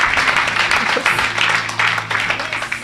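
Church congregation clapping and cheering for Jesus in a lively worship service, a dense, steady wash of applause lasting throughout, with voices mixed into the crowd noise.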